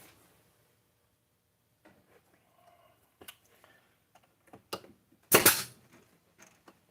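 Scattered gunshots in a video game, a few small pops and clicks building to one sharp louder blast, sparse and intermittent against near silence.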